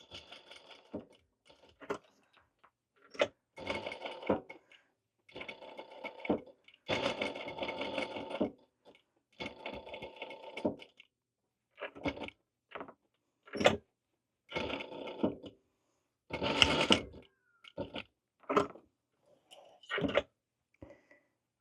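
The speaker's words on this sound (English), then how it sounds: "I'm gonna go ahead and do my 2 rows of stitching." A sewing machine stitches rows on a ghost pillow in short repeated bursts of rapid whirring and clatter, separated by brief silences, close and clear with no talk.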